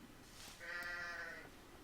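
A single sheep bleats once in the Age of Empires video game, a short wavering call that is faint and alone.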